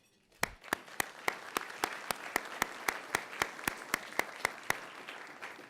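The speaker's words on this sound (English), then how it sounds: "so we applaud him for that" A small audience at an annual meeting claps in slow, evenly spaced beats, sharp and fairly near, continuing for several seconds without voices.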